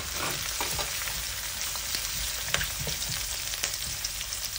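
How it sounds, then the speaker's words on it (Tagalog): Onion and garlic sautéing in a pan for pork ribs and belly, a steady loud sizzle and crackle of frying with occasional stirring scrapes throughout, no voices. "At pagkatapos ay ilalagay natin yung ating bawang o yung garlic. Yan. So igigisa lang natin sila."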